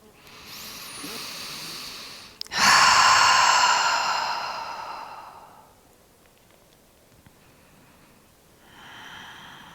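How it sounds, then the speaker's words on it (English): A slow deep breath during a yin yoga pose outdoors by Lake Revelstoke: a soft inhale, then a long, loud, airy exhale that fades, followed by quiet and a fainter breath at the end. "Five more deep breaths here."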